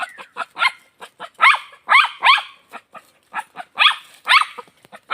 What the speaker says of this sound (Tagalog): Ito nga yung aso namin, medyo makulit nga lang.